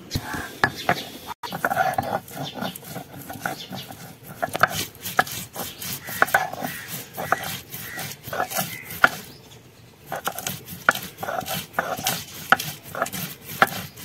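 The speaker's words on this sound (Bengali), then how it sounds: "এখন একটু বেটে নেব। এই যে আদা বাটবো আর কয়েকটা কাঁচা লঙ্কা বেটে নেব।" Ginger and a few green chillies are ground into a paste, a close, rhythmic run of scraping, rubbing strokes that continues steadily, with faint background sounds.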